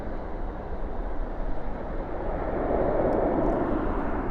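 Boeing 737-800 landing at night with spoilers up and thrust reversers deployed, a steady loud broadband roar that swells toward the end, heard from a distance with no talking.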